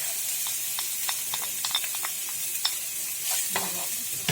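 Beef taco filling with garlic is stirred in a frying pan, with soft, irregular scrapes and clicks over a faint, steady sizzle, close and quiet.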